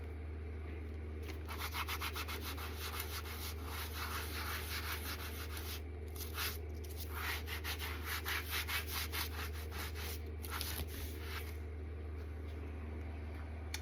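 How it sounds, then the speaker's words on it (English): Steady back-and-forth rubbing of a collagraph printing plate being polished by hand, bursts of close, dry scrubbing strokes over a low constant hum, with no talking. "I'm just going to polish it now."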